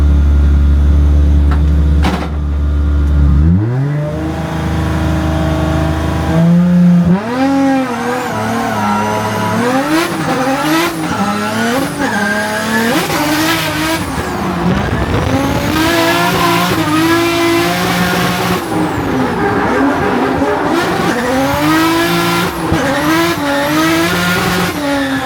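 Race car on a qualifying lap at HotPit AutoFest, engine revving loud and close throughout, rising and falling through gear changes with brief tire squeal, starting after a few seconds of idle.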